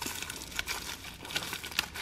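Plastic wrapper on a Banquet Mega Pizza Double Stuffed Four Meat frozen pizza crinkles and tears in short, close bursts, quiet and intermittent with no speech.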